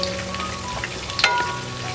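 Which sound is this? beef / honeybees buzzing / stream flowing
beef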